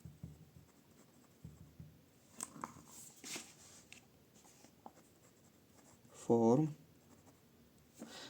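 A number being written out by hand in standard form during a maths lesson, with soft, scattered scratches of the pen and one louder burst of scribbling near the end, under faint voice sounds.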